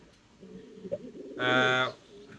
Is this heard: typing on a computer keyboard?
no